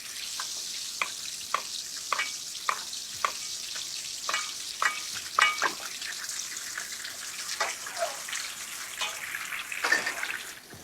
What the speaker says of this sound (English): You can see how this sauteing at a lower heat doesn't create so much splatter